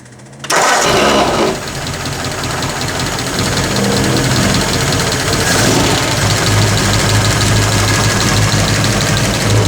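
A 1934 Ford coupe engine fitted with a reproduction Holley 94 carburettor fires up suddenly and keeps running loud and close at a steady, slightly rough idle for the rest of the clip.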